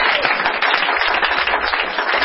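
An audience at a prayer gathering in Divo claps together in steady, dense applause that continues throughout, with no break.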